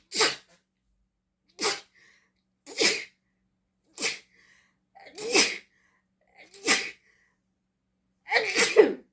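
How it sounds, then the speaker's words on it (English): A run of seven loud sneezes in a row, spaced a second or so apart, with quick breaths between them. "I'm going to sneeze. I apologize, because I have a multiple sneezer."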